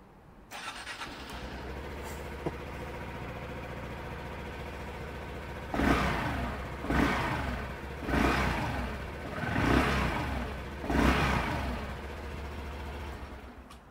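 A new Honda Dax 125 engine sputters to life and idles, then revs up in five separate bursts about a second apart before settling back to a steady idle.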